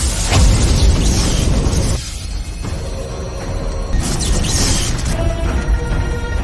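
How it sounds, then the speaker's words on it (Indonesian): Power explosion effect from an animated fantasy story, a dense, loud roaring blast with crashing, rumbling texture that dips briefly then swells again, sustained throughout without speech. "seketika muncul ledakan kekuatan yang menyebabkan tubuh Yi Chen tidak bisa bergerak"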